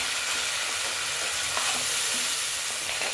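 Onion gravy for prawn masala sizzles steadily in a hot pan, a dense continuous frying hiss with faint stirring scrapes, close and fairly loud with no voices.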